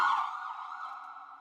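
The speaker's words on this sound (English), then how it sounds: "And that's our siren." An ambulance siren sounds at a Touch a Truck community event: one steady, loud wailing tone that holds for the whole moment and starts strongest before easing slightly.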